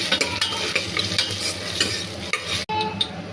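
Ginger garlic paste is stirred into hot oil in a pan for mutton curry with drumsticks, with close, loud sizzling and repeated scraping strokes of a spoon, briefly cut off near the end.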